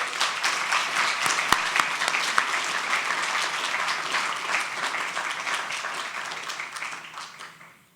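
An audience at an awards ceremony claps for an award winner, a dense, loud wash of applause that holds steady and then fades out at the end.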